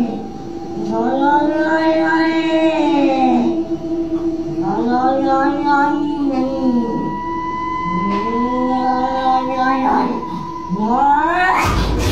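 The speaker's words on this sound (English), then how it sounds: "the cat just keeps freaking out" A frightened cat yowling and caterwauling in long, drawn-out wailing cries, four loud rising-and-falling howls close by at night, ending in a sharp burst.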